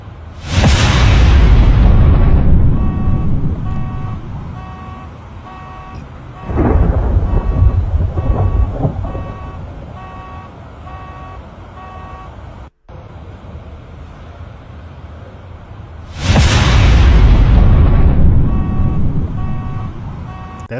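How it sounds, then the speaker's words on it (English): Thunder booms through a storm in three heavy rolling waves, each a loud sudden crack that rumbles and slowly decays, with an intermittent electronic beeping tone pulsing in the background between strikes. "That's a crazy effect for thunder."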